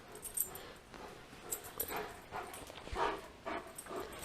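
Puppies in a workshop whimpering and yipping: a series of high, close whines and short yelps comes in uneven bursts over faint shop background.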